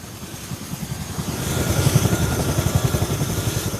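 A US military medical evacuation helicopter flies past, its rotor chopping in a steady rapid thump that grows louder and closer over a broad turbine whine, with no voices.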